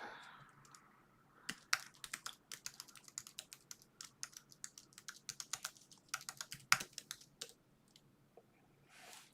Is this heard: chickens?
no